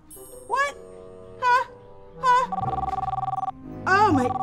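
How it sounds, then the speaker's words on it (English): Phone ringing with a bright electronic ringtone: three short chirping bursts, then a buzzing trill and another chirp, fairly close and loud, with background sounds beneath. "I think that might be my phone."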